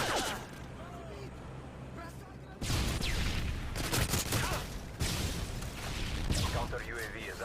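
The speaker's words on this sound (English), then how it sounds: "Predator missile inbound." Call of Duty predator missile strike with bursts of gunfire, loud, dense explosive crackle and rapid shots in two long stretches after a quieter opening, with a voice talking over the din.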